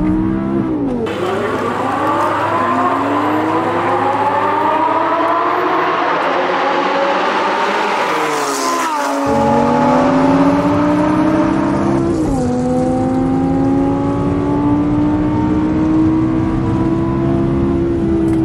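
An Audi R8 and a Lamborghini Urus launch side by side in a race, their loud engines roaring through rising gear sweeps and shifts and staying close and continuous throughout.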